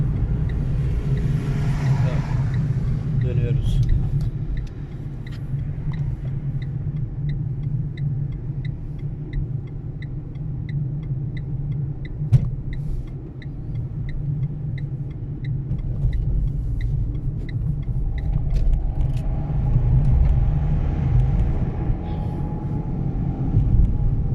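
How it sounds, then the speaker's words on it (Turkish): Busy city street traffic in Istanbul, with a steady low rumble of cars and motor vehicles passing nearby, loud and continuous throughout. "insan kalabalığı, araç kalabalığı"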